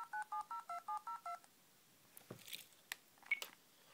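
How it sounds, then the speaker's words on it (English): A Casio DBA-800 phone dialler held to a phone handset plays a quick run of seven clipped DTMF dialing tones, then a few soft clicks and handling noises follow. "that allows you to dial phone numbers that are stored on here using the DTMF tones"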